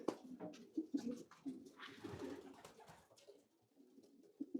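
Pigeons cooing inside a loft with white-stained walls, soft repeated throaty calls from several birds overlapping at close range, with no voices.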